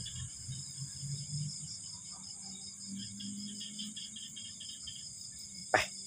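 Frogs and small frogs call at night by the water at a fishing spot, a faint steady high chorus mixed with insect trilling and some low croaks, with one sharp knock near the end.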